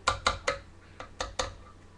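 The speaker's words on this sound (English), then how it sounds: "So I'm just simply stirring this" Meat and rice are stirred together in a pan, making six crisp scraping clinks of a spoon against the pan at an uneven rhythm, close and fairly loud against a quiet background.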